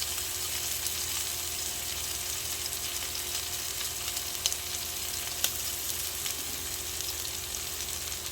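A seared steak sizzles in a frying pan after the heat is turned down, a continuous hissing crackle held close and steady with a couple of faint clicks.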